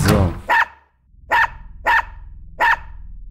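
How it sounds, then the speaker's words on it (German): A dog in the video game Unepic barks four times: loud, sharp, evenly spaced woofs after a brief noisy rush at the start, each bark clipped and close, with no talking. "Immer wenn er bellt, verlieren wir Energie."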